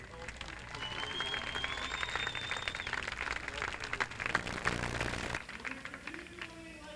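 An amphitheatre crowd breaks into loud, sustained applause for a comedy troupe, with cheering and a whistle, steady for several seconds before tapering slightly.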